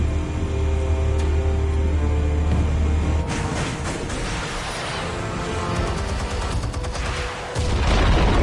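Video game explosions set off after explosives are armed, a dense run of booms and crackling blasts with low rumbling, heavy and continuous at close range, with a deep thud near the end.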